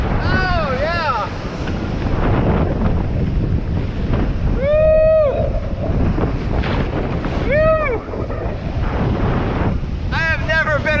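Rough ocean waves and strong wind roar without a break during typhoon surfing off Boracay, loud and close, while someone shouts excited whoops.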